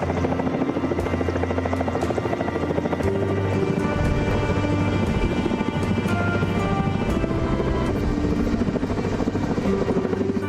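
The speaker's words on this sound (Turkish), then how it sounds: "helikopterler yangın uçakları aralıksız çalıştı" Firefighting helicopters working over a wildfire in Turkey give a loud, continuous rotor thrum and engine whine that fills the whole stretch without letup, with no talking.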